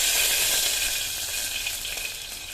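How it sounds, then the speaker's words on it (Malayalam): Washed fenugreek seeds dropped into hot coconut oil in a pressure cooker, giving a steady bright sizzle and hiss that slowly fades, heard alone without voices. "അപ്പോൾ ഞാൻ ഉലുവ നന്നായിട്ട് കഴുകി ഇതിലേക്ക് ഇട്ട് കൊടുക്കുകയാണ് കേട്ടോ"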